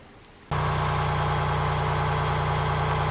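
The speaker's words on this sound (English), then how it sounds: "I've just switched the engine on as the inverter started to beep" A narrowboat engine on the Grand Union Canal starts abruptly after a quiet moment and settles straight into a steady, loud, low idle that holds unchanged.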